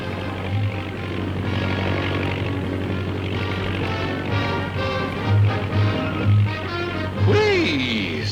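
A 1950s propeller airplane's engine drones steadily through a tail spin, with a rising and falling whine near the end, under a narrator's voice and music.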